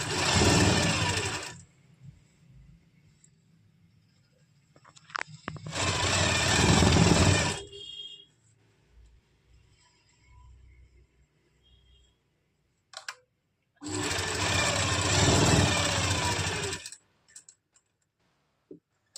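Three separate bursts of a sewing machine stitching the crotch seam of an Afghani salwar, each run lasting a couple of seconds, loud and close, with quiet handling clicks between.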